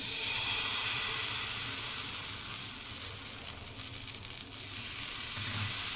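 Batter for varai dosa, a fasting dosa, sizzles on a hot griddle with a steady, fairly soft hiss that carries on without pause and with no talking.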